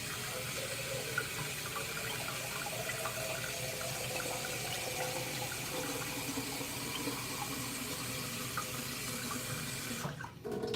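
Tap water runs steadily into a 20-ounce coffee maker reservoir, a continuous close rushing stream that stops abruptly near the end.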